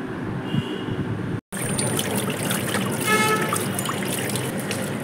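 Running water trickles and splashes steadily as a dried homemade tan-removal face pack is rinsed off, a close, continuous broadband wash with a brief cut near the middle and no talking.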